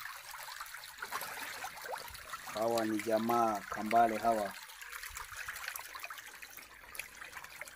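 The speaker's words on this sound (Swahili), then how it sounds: "Nafanya usafi wa kutoa maji machafu na kuweka maji masafi." Water trickles and streams steadily while a catfish pond is drained of dirty water and refilled with clean water, heard under someone speaking at moderate distance throughout.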